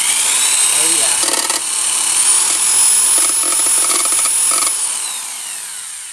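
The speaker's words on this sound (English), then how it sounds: "let's see if we can drill it in." A power drill bores a hole for a homemade racing mower build, whining steadily at high pitch with short bursts of grinding as the bit bites, then winding down.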